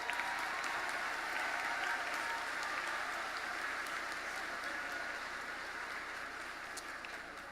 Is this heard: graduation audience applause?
yes